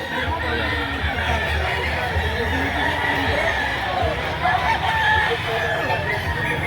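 Chickens cluck and a rooster crows amid the steady crowded din of a Saturday gamefowl market, with people chattering nearby throughout.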